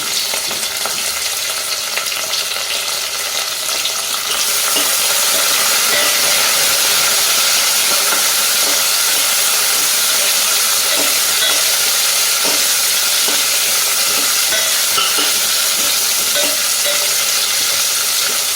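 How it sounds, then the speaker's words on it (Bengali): Onion and whole garlic cloves frying in oil for one-pot Bengali matar dal, a loud, steady close-up sizzle and hiss running throughout with faint stirring scrapes. "এই দিয়ে এবার একটুখানি পেঁয়াজটা আমি ভাজব"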